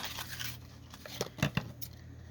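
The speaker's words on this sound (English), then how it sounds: "Oh, these scissors are not wanting to cut." Scissors snip through paper scraps in a few quick, close cuts, the sharp blade strokes bunched near the middle against a quiet low hum, with no voice heard.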